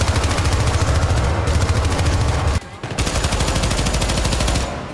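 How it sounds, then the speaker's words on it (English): Sustained automatic weapon fire from the video game Syndicate, a loud, dense, rapid stream of shots running almost continuously, breaking off briefly near the middle before resuming at full intensity. "Automatic weapons are as satisfying as ever."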